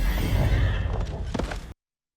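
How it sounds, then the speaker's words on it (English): A horse whinnies loudly in a fantasy game trailer, a horned, bull-like steed being summoned, its neigh rising over a dense dramatic backdrop before cutting off abruptly. "The summoning of the horse."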